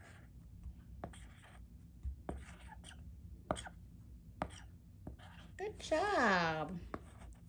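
A toddler writes letters with a pencil in soft, sparse scratches and taps, faint and close, while an adult speaks quietly and a voice rises briefly near the end.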